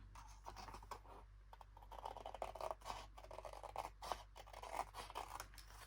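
Scissors cut paper for a pop-up baby scrapbook album, a quiet close series of snipping and rustling strokes repeating steadily without talk.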